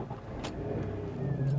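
A Citroen XM 3.0 24V with many worn parts is started up. Faint cranking gives way to a steady low engine hum that swells toward the end, close by and with no voices.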